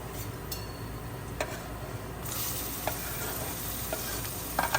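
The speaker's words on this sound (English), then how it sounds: "Again on a slow flame, we're going to roast it till it's nice and brown." Onions fry on a slow flame for red chili pickle, a soft steady sizzle with faint scrapes and clinks of a spoon stirring the pan, quiet and close.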